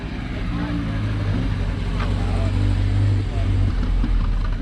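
A BMW 2002 rolls up at a cars and coffee meet, its engine a steady low rumble that holds close and fairly loud with a faint rise in the middle, amid outdoor crowd noise.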